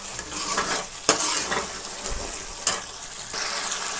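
Masala for rajma being stirred and fried in a pan, soft sizzling under repeated scraping of a spoon, with a couple of sharp metallic clanks against the pan, close and moderately quiet.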